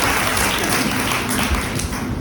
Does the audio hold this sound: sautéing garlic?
no